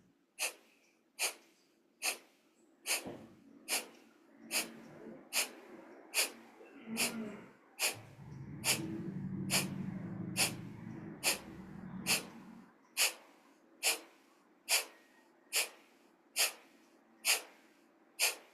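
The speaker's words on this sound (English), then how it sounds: "strike the navel back towards the spine into your breath of fire rhythm" Breath of fire yoga breathing: a long series of sharp, evenly spaced nasal exhales, about one per second. A stretch of quieter murmuring breath sits in the middle, and the pulses then resume at the same steady rhythm.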